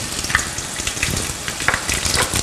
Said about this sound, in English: It's already hot, so we'll add 1/2 of a chopped onion.